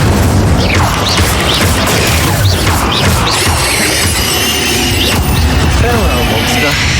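The Incendio fire spell goes off in Hogwarts Legacy, with loud booming bursts, crackles and impacts layered over dense, continuous combat noise.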